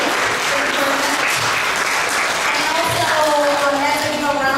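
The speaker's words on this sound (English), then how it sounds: "Let's give a round of applause to EK Gallery" An audience at an education seminar applauds in a steady, dense clatter of clapping that fills the room, while a voice speaks over it.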